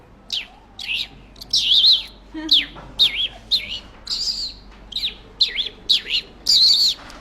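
A person mimics a sparrow chirping with a quick string of sharp, high tweets, some short and some drawn out, moderately loud over a quiet background.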